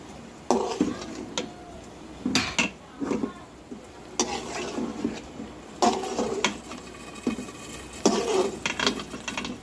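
Spoon scraping and clinking around a pot as half-cooked mutton for biryani is stirred with the heat switched off, irregular bursts of close clattering strokes with quiet gaps between.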